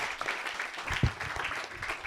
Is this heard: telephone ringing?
no